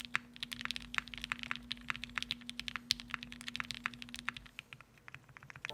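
Typing on a mechanical keyboard fitted with Gateron Ink switches on an aluminum plate: a dense, steady run of close, crisp keystrokes, loud and fast, with a faint low hum beneath.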